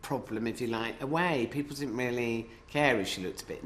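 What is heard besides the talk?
None of the usual background noises is heard.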